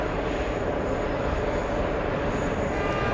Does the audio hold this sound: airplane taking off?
yes